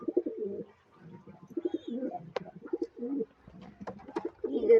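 Pigeons coo repeatedly in low, throaty bursts, close by, with a few faint chirps and rustles in between.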